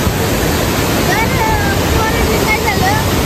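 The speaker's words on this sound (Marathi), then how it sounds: "हा बोकड्याचा ओढा आहे." Forest stream Bokdyacha Odha rushing along a jungle trek in dense Maharashtra forest, a steady loud broadband wash of flowing water with faint voices audible over it.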